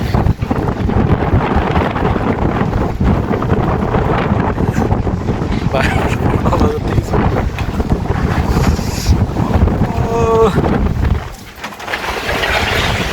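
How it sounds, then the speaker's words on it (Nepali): Strong gusting wind buffets a parked motorbike at a hilltop view tower, a loud continuous roar of wind on the microphone with rattling and rumble, a voice speaking faintly underneath. "बाइकै पल्टाउँदा जस्तै गर्छ त हावाले"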